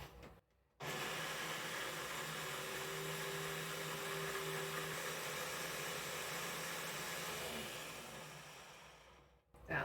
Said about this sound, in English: so I'm going to chop it up into this blender